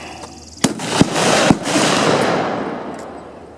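Three sharp Model 1903 Springfield sniper rifle shots crack in quick succession at an outdoor range, each loud report followed by a long rolling echo that fades slowly.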